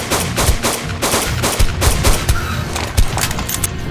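Rapid automatic gunfire in the video game ARK Survival during a fight in an ice cave, loud and close, with dense bursts of shots and heavy booming impacts throughout.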